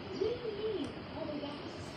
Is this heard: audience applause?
no